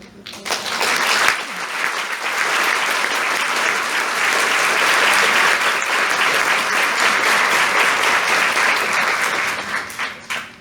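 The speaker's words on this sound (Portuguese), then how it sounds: "Que as palmas sejam para Roseli e para Nossa Senhora" Loud, sustained applause from a large audience at a Catholic gathering, rising quickly into a dense, even roar of clapping that holds steady for several seconds before tapering into scattered claps.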